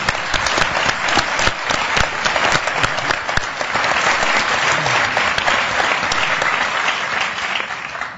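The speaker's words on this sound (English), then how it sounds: "I do think we should give Virginia a huge round of applause for the work she does." An audience at an Art in Embassies conversation event claps in a long, dense round of applause, loud and sustained with sharp individual claps standing out, tapering off slightly at the very end.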